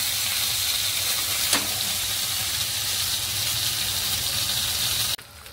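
Bangda mackerel fish shallow-frying in a pan, a loud, continuous close sizzle with one brief tap partway through before the sound cuts off abruptly near the end.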